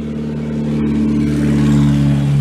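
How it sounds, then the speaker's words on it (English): A car passes nearby, its steady mid-pitched engine hum swelling slightly louder toward the end with no voices over it. "Car drive by."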